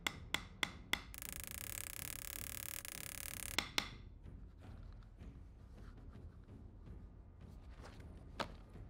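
A handful of sharp metallic taps from hammering peening rivets into leather at the start, then a steady mechanical whir for a few seconds, followed by scattered lighter knocks and clicks.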